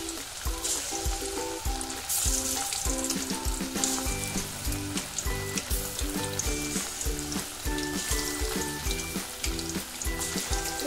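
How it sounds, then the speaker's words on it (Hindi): Small chicken pieces fry in oil over a slow flame, a dense steady sizzle with soft crackles running throughout while music plays over it, no talking. "चिकन हमारा फ्राई हो रहा है"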